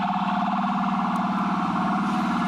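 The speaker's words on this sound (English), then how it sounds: "always busy here in New York City with the sirens" Steady wail of an emergency vehicle siren on a New York City street, holding a continuous tone mixed with low traffic rumble throughout, moderately loud with no talk.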